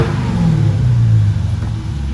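The deep, throaty 392 V8 engine of a 2017 Dodge Challenger Scat Pack with a 6-speed growls steadily at close range, rumbling low with a slight rise in revs.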